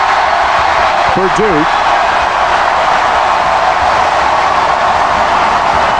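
Loud, steady crowd roar fills a basketball arena at Cameron Indoor Stadium during a lopsided Duke home win over North Carolina, with a commentator talking over the noise throughout.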